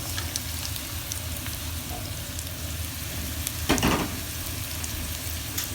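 Carrots sizzle steadily in a hot pan in a home kitchen, a close continuous frying hiss with a brief scrape of stirring partway through.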